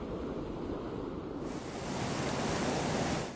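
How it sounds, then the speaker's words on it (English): Water pours steadily through a dam after crews filled in and shored up the area around it, a continuous broad rushing roar that swells slightly louder midway and carries on without pause. "Water is flowing through this dam"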